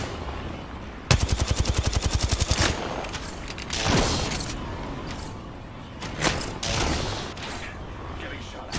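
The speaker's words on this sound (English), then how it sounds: "Getting shot at." Gunfire in Apex Legends ranked play: a rapid automatic burst of evenly spaced shots lasting about a second and a half, followed by scattered impacts, mechanical clatter and further shots at varying distances.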